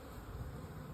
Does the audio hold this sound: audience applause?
no